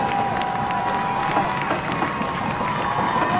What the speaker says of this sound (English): Bands playing, cheerleaders cheering, fans up, and the defense signs going